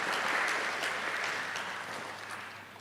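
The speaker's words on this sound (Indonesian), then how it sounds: "Kita beri aplaus Bapak Ibu." Sustained applause from a seminar audience, dense clapping holding steady for nearly three seconds and slowly tapering off, with no voices over it.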